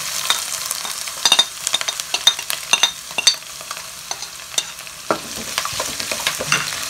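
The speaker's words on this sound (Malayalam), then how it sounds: "ഇഞ്ചിയും വെളുത്തുള്ളിയും ചോപ്പ് ചെയ്ത് വെച്ചതും പച്ചമുളകും കൂടി ആഡ് ചെയ്ത് കൊടുക്കുകയാണ്" Ginger, garlic and green chillies sautéing in a pan for a vegetable curry, with a steady close sizzle and frequent sharp scrapes and clinks of a spatula stirring against the pan.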